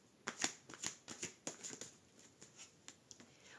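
Tarot cards being shuffled and drawn during a reading: a run of crisp, papery riffles and soft flicks in irregular bursts, close and fairly quiet, with no talking.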